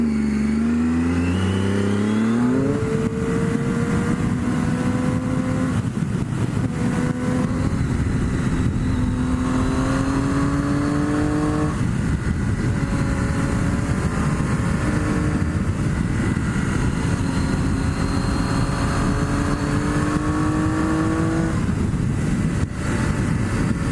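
A motorcycle engine heard on board while riding and leaning through turns, its pitch rising and falling repeatedly through gear changes over steady wind noise, no talk.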